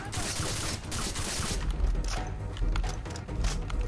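Sustained bursts of LMG gunfire from a Far Cry 3 battle against pirates, dense and continuous throughout with heavy low thuds, some overlapping shots, loud and close.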